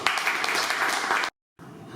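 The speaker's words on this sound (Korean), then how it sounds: "힘찬 박수로 맞이해 주시기 바랍니다" Audience applause welcoming a speaker to a DMZ peace and unification lecture, a steady wash of clapping for over a second that cuts off abruptly into silence, then resumes faintly.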